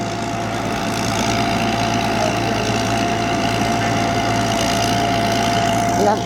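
A combine harvester engine runs steadily in a rice field, a loud, continuous low idling drone with a constant mechanical hum and no breaks throughout.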